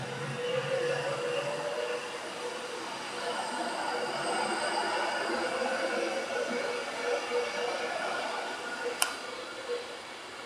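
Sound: Pendolino train passing

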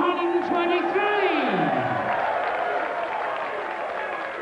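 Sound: applause for darts player Bobby George's finish

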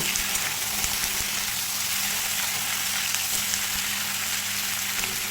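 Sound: mixed vegetables frying in a pan on high flame

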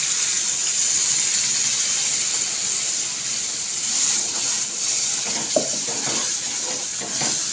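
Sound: water poured into cooking pan

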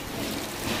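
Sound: continuous rain falling

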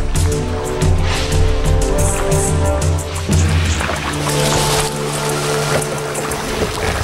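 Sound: boat moving slowly on a river toward hippos

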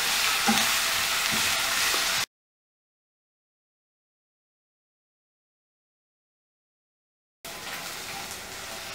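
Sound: ginger garlic paste roasting in oil with spices

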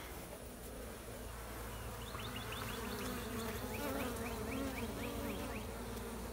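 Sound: bees buzzing in a hive inside a brick wall

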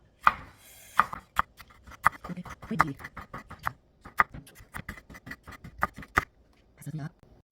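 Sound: slicing green chili peppers with a knife

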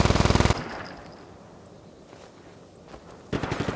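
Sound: machine gun fire in the video game Just Cause 3

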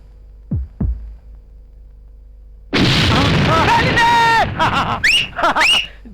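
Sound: kitchen blast explosion sound effect in a film

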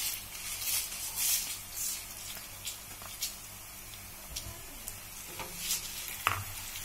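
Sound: stirring dried red chillies frying in a pan

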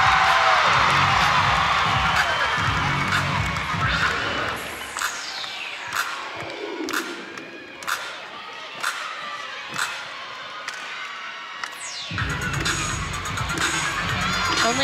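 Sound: gymnastics crowd cheering

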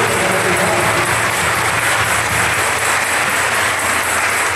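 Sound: congregation applause in parish church

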